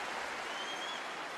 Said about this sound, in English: It was almost polite applause.